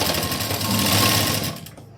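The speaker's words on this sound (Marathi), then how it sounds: "बरोबर मी सेंटरला शिलाई देऊन घेतली पहा" A sewing machine runs in one steady close burst, stitching piping along the centre of a fabric strip, then stops abruptly near the end.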